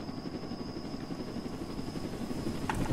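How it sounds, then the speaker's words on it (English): A helicopter in the Roblox Jailbreak game drones with a steady rotor chop and whine throughout, loud and continuous without talk. "Wait, is that you in the helicopter?"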